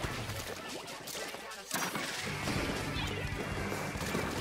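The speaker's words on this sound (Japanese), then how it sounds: "炭酸ボム3連爆発" A Fizzy Bomb in Splatoon 3 bursts in a triple explosion, giving a series of sharp, crashing splashy bangs over continuous game action noise, with a brief dip in sound before the blasts.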